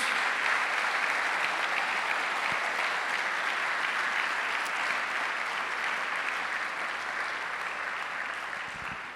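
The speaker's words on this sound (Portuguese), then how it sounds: "Você pode aplaudir o Senhor por isso?" A church congregation applauds during a sermon, a broad, steady wash of clapping that fills the room and fades slightly toward the end.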